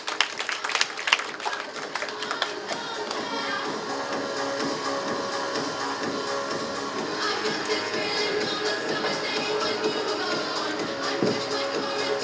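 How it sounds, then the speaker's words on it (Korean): Audience applause welcoming a speaker at a school admissions information session, a steady wash of clapping that opens with some sharper claps and continues evenly throughout. "박수로 환영해 주시기 바랍니다"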